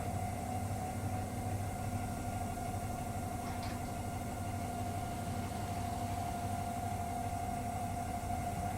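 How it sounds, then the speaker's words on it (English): A heavy train pulling away in notch 4 in Train Sim World 6 on the Stuttgart route, giving a steady, loud low drone of traction motors and rolling rumble with a constant hum. "Clearly it's a heavy train to get moving because we're in notch 4"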